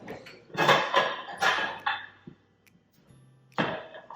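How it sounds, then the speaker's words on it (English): Ceramic bowls taken out for serving butternut squash soup, with several close, loud clattering knocks and clinks of dishes set down in quick succession, a short pause, then one more clatter. "Let's get some bowls out."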